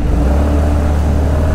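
A Yamaha Grand Filano Hybrid scooter pulls away from a stop at a green light. Its engine drones steadily and loudly with a low hum, close by, with no talk over it.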